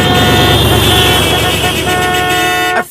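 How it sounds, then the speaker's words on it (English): Car horns honk loudly and steadily, several overlapping blasts over traffic noise, cutting off abruptly at the end. "everyone was honking at us"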